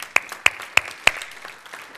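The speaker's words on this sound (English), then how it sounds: "give the Lord a clap." Four sharp hand claps in an even rhythm, fairly close, followed by a faint scattered patter of clapping from a church audience.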